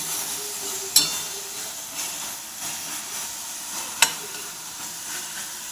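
Fenugreek (methi) bhaji cooking in oil in a pan gives a steady soft sizzle and hiss, with two sharp scraping clinks from stirring, close and alone without talk.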